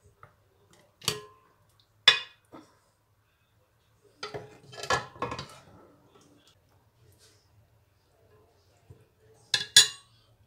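Metal utensils clink and scrape against a pot and serving dish as pieces of mutton from a mutton shorba are dished out. The clatters come in scattered bursts with silence between them, close and fairly clear.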